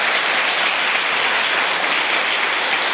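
Steady applause from an audience at a community event in Nashville, Tennessee, a continuous even wash of clapping with no voices.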